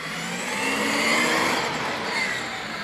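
An MCD XR5 radio-controlled car with soft, high suspension drives nearby, its motor giving a steady whining buzz that swells slightly and then eases back, loud and continuous.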